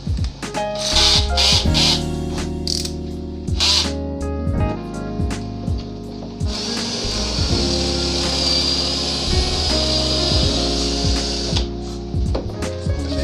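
A Lotus 18V cordless impact drill drilling a pocket hole in wood: loud whirring bursts with sharp knocks, then a sustained high grinding whine through the bit, with short clicks and handling noise around it.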